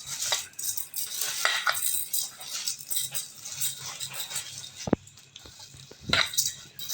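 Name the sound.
mixing rice by hand with a little water and salt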